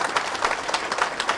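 Steady applause from an audience welcoming a minister at a community building unveiling in Hyderabad, a brisk patter of many hands at moderate distance with no voices over it.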